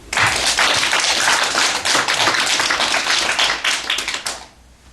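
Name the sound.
congregation applause in church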